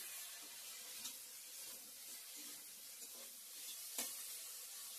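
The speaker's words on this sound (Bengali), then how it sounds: "ডালের জন্য বেগুনটা এখানে ভেজে রাখছি হালকা করে" Eggplant frying lightly in a pan for dal makes a faint, steady hiss with occasional small pops and ticks, quiet and continuous throughout.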